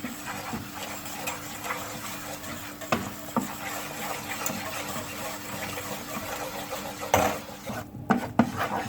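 A spoon stirs and scrapes flour as it roasts in a pot for Black Sea style bulgur soup, with soft repeated scraping and clinks of utensil against metal at close range, a few sharper knocks near the end.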